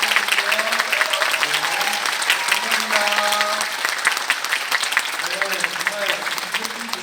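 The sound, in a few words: audience applause for guest actors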